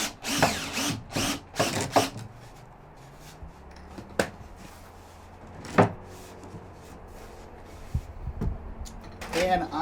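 A power drill drives screws into wood framing, giving several short, sharp bursts of whirring spaced through the clip, with quieter handling noises in between.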